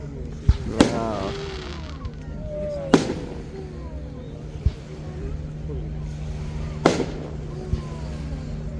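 Fireworks are set off in Vancouver. Several sharp, loud bangs come at irregular intervals over a low rumble, and people talk between the blasts.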